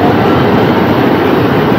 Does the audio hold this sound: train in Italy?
yes